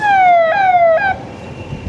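A police car siren wails loud and close, three falling tone sweeps that cut off abruptly, leaving quiet road ambience.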